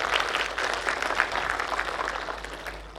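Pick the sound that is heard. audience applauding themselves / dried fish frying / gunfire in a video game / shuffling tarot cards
audience applauding themselves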